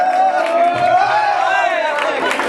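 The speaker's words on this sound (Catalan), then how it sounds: "Molt bé, un fort aplaudiment." Crowd cheering and calling out for the winners at a popular aquathlon prize ceremony in Blanes, with a loud sustained shouted tone rising over a broad wash of crowd noise.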